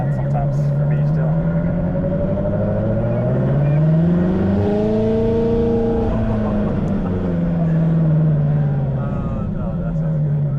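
A Ferrari F430 engine revs up and down in two long swells, loud and close, as the car accelerates through its gears with a smooth sweeping tone; faint voices underneath.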